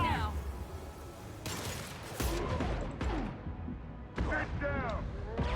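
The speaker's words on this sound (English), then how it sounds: "Taking heavy fire now" Heavy gunfire rattles through a firefight in the video game Mass Effect 2, with bursts of shots and impacts mixed among clattering combat effects while voices talk over the action.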